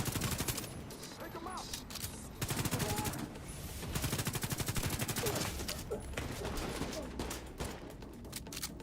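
Video game gunfire, sustained rapid machine-gun bursts and rattling shots over nearly nine seconds, loud and continuous with brief pauses, mixed with a player talking.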